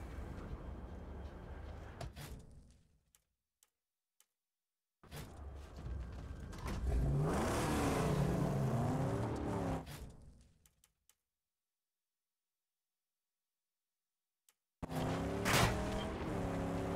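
A car engine in the Mad Max video game revs up and pulls away in two loud bursts of rising and falling engine tone, separated by several seconds of near silence.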